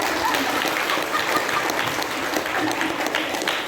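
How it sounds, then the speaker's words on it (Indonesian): A crowd at a community talk about a traditional dance claps continuously in a dense, even wash of applause, fairly loud and close, with no clear voices above it. "Tepuk tangan musik."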